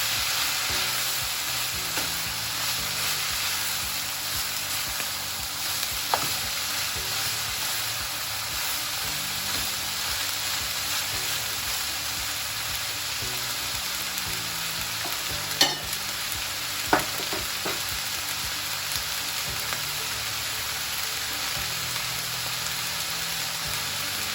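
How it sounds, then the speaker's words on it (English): Vegetables for egg noodles stir-fry in a pan with a steady, even sizzle and a few brief clinks and scrapes from stirring, heard alone at moderate volume. "The next one I will add is the vegetables. To stir fry it."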